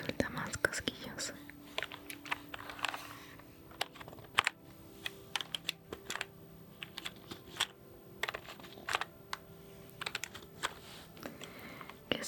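Soft, close computer keyboard typing in irregular clicking bursts with short pauses, quiet and intimate in an ASMR setting, with faint whispering mixed in.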